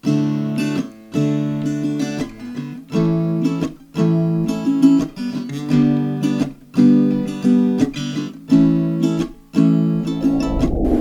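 An acoustic guitar strums the chords of a song, including barre chords, in a steady rhythm, each strum ringing out before the next, close and clear with no voices.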